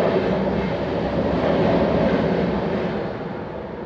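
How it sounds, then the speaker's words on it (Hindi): A train passing along a railway line, giving a loud, steady broadband rumble that holds for several seconds and eases slightly toward the end, with no talk over it. "अब पता नहीं एक ही ट्रेन है, दो ट्रेन,"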